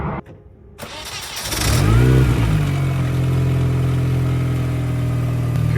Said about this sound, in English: For sure hear the supercharger whine a lot more.